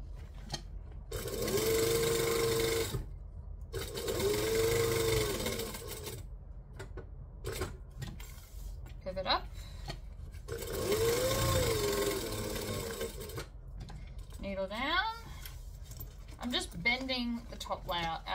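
Domestic sewing machine stitching a craft tote, several steady whirring bursts of running stitches separated by pauses, with a person talking between runs.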